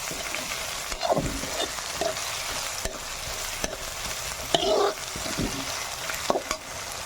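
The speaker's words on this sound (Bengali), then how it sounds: "এর মধ্যে লঙ্কাও দিয়ে দিলাম।" Green chillies sizzle and fry in an oiled pan for a chicken liver masala, with steady broadband hiss and several scraping stirs and clanks of a spatula spread through; no talking.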